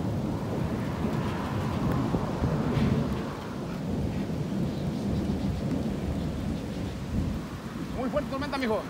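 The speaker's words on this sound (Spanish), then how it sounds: "Miren, llegó la tormenta." A heavy thunderstorm roars with steady downpour and deep rolling thunder, loud and continuous, with a brief faint voice near the end.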